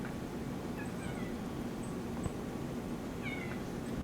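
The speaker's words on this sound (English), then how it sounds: "Cat." A cat gives several soft, high meows spread across a few seconds over a steady background hum, fairly faint and heard alone.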